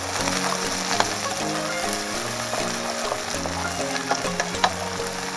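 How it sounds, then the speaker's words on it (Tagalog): Onions frying in hot vegetable oil in a pan, a dense, continuous sizzle with occasional crackles and light stirring, close and steady with no voices. "Fried lang po natin onions."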